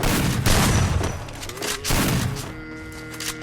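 Gunfire in a mobile shooter game during a jump shot: a quick burst of rapid shots, loud and close, breaking off after a couple of seconds into a brief tonal game effect.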